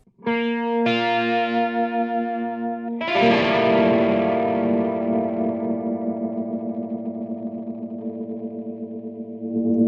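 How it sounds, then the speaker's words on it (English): Sustained electric guitar chords through a Peavey Vypyr VIP 3 amp's rotary speaker effect, swirling and warbling, starting with two held chords then a louder strummed chord ringing out for several seconds, no talking. "when you use the rotary, there's a rotary speaker sound in here"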